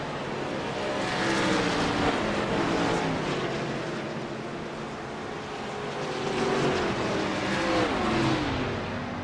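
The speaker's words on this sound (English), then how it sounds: "there's a great race coming to the line here between 2 Rex cars" Sim race cars battling toward the finish line at Daytona in a racing game, engines droning loudly together with rising and falling pitch as they swell past, a continuous close roar.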